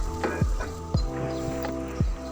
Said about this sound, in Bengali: এখনই আমি রসুনটা দিয়ে দিব, খুব ভালো করে ভেজে নেব।